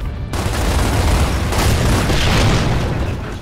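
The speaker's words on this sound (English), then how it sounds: "Essentially, you get 2 rockets to blow away your enemies." Boomshot rocket explosions from Gears of War, a dense continuous rumbling blast filling the whole stretch, loud and close with a second swell midway.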